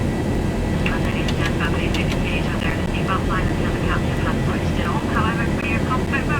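A Boeing 737-800 going around in X-Plane 11 gives a loud, steady jet engine roar throughout, with cockpit callouts spoken over it.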